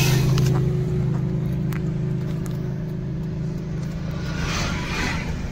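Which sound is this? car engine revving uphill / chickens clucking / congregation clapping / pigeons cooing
car engine revving uphill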